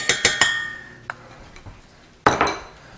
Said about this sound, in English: Whisk and thicken.